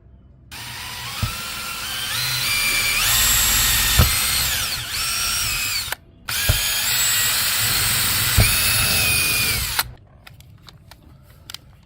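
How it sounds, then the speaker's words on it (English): A power drill whines up and down in pitch through two long bursts with short pauses, loud and close, followed by faint clicks and taps. "Now I'm going to drill all of these holes out."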